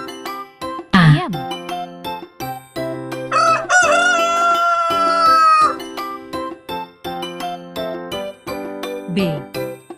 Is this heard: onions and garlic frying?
no